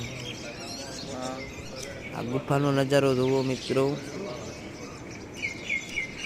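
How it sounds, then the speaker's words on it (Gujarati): Pigeons coo in a soft rolling rhythm alongside scattered chirps of parrots and mynas inside a cave, slightly echoing and close by, while someone speaks over the birds. "ગુફાની અંદર પણ પશુ પંખી ઘણા રહી છે કબૂતર પોપટ કાબરો"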